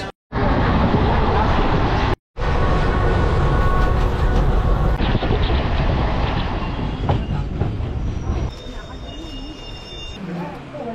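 The 12885 Aranyak Express runs on rails between Chandrakona and Bishnupur, a loud steady roar with rattling carriage noise and clatter, briefly cut out twice, easing somewhat near the end with faint squealing tones.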